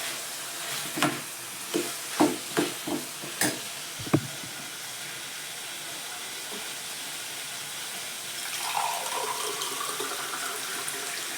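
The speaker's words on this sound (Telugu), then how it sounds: "కొన్ని వాటర్ యాడ్ చేస్తున్నానండి, అది ఉడకాలి కదా మరి ఆలుగడ్డ" Potatoes cook in a pan: a series of sharp spoon taps and clinks comes first, then water is poured in and sets off a rising, steady sizzle and hiss toward the end.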